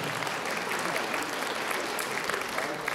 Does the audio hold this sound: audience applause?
yes